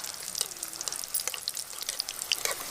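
Aloo mirchi bajji frying in hot oil, a steady close sizzle of fine crackling bubbles with scattered brighter pops, no voices.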